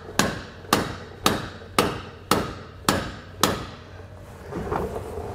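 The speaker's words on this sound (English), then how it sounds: "We're gonna grab our hammer here and give her a whack." A hammer strikes a bolt on a Dexter E-Z Flex trailer suspension being fitted to a 2021 Grand Design Imagine travel trailer, seven sharp metallic whacks at an even pace, each ringing briefly, followed by quieter rustling.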